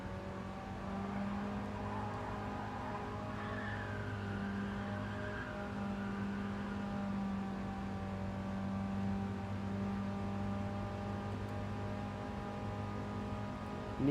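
A Mini race car engine in a racing video game drones and revs steadily at high speed, loud and continuous for the whole stretch, with no talking.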